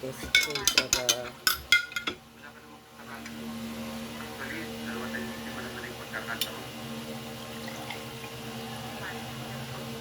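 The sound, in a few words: stirring avocado in a bowl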